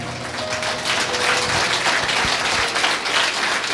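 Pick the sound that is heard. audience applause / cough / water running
audience applause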